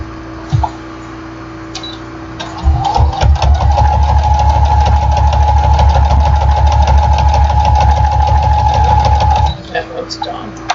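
A domestic sewing machine stitches a seam on a jelly roll mug rug in one steady, close, loud run of about seven seconds, bracketed by brief handling clicks before and after.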